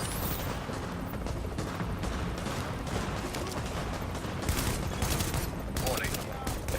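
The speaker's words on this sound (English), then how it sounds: "Let's try some explosive bullets." Explosive-round gunfire in the video game The Division: a dense, continuous fusillade of rapid shots and blasts, loud and sustained throughout with no letup.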